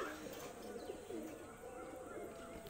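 A four-year-old Pulsar breed pigeon coos softly at close range, its low, rolling coo repeating over a faint, steady background hum.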